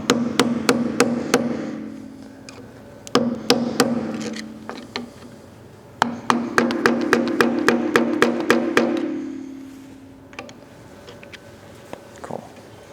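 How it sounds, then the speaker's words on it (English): A hammer drives a flathead screwdriver against a cotter pin on a boat propeller, making quick runs of sharp metallic taps separated by brief pauses, then a few scattered lighter knocks. "I like to use my hammer and my flathead just to kind of get it started to lock the cotter pin into position"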